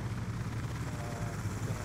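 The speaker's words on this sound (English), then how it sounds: "Sounds like a helicopter." A helicopter in Black Ops II drones steadily overhead, a thick, fluttering rotor rumble that stays constant and fairly loud for two seconds with no voices.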